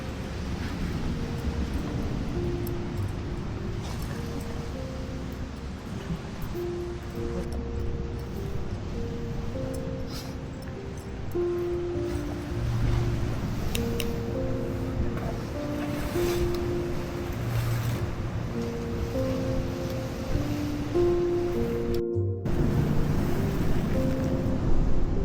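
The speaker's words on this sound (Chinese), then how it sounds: "听到大海的声音" Sea waves wash steadily onto the coast at dawn, a continuous low rumbling surf mixed with wind buffeting the microphone.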